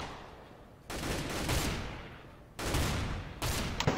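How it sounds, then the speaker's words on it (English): Automatic rifle and shotgun fire in a Counter-Strike match comes as repeated loud bursts of shots, three distinct volleys over a few seconds, close and dense with no talk. "sounds like AKs and shotguns"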